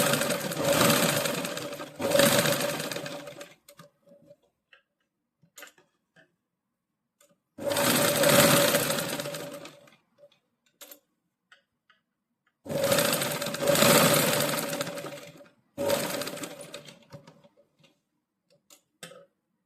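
A sewing machine stitching the back neck of a saree blouse, running in four separate bursts of rapid whirring, each a few seconds long, with quiet pauses between them.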